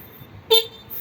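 A stock e-bike horn gives one short, loud honk mid-clip, then a fainter second toot at the end, over quiet background.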